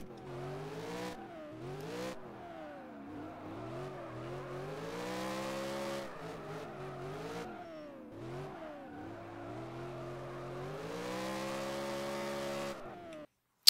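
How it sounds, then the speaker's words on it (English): Car tires squealing through a feint drift entry in the rFactor racing game, with the engine revving and rising and falling over several long screeching slides, loud and alone. "Alright, so there's the feint drift."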